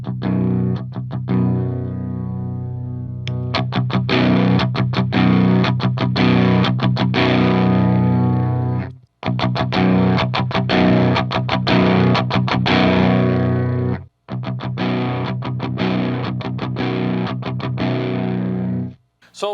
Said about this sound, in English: then I'll engage the pedal, and then from then on you'll just hear the pedals engage the entire time on the clean